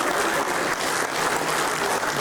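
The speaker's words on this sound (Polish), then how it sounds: "Wielkie brawa" Dense, steady applause from an audience for a folk ensemble performing Polish and Lemko songs, heard on its own without talk.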